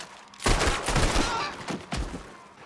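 Gunfire in Red Dead Redemption 2: a loud, rapid volley of shots with several overlapping cracks, then a short pause and a second burst near the end, with no talking.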